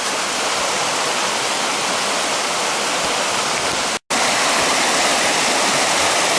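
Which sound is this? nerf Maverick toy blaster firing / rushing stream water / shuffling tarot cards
rushing stream water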